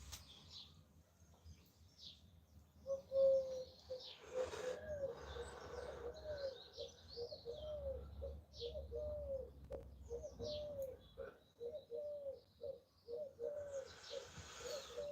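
A pigeon coos repeatedly in soft, rhythmic rolling phrases close by, with other birds chirping briefly in the background and a low outdoor rumble underneath.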